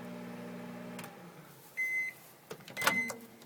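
A microwave oven runs with a steady low hum during a zinger experiment, then beeps twice: one tone near the middle and a sharper beep near the end amid clicking as it finishes. Nobody speaks.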